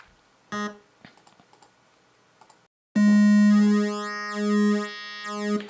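Clicks and taps, then a sustained buzzy wavetable synthesizer tone with rich harmonics and a stereo effect that sweeps and wobbles in pitch, fairly loud and alone.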